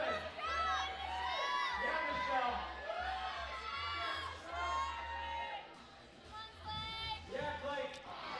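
Crowd at the Yank-N-Yard 2018 climbing competition finals cheering and shouting encouragement for a climber near the top, a loud sustained roar of voices with whoops and children's shouts rising and falling, commentary talk running over it.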